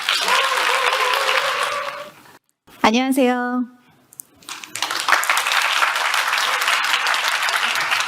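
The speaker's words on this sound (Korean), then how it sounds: "박수 부탁드리겠습니다." Conference audience applause at a cloud technology summit in Seoul, a dense broadband wash of clapping filling the room before a brief gap, then someone speaking, followed by more sustained applause.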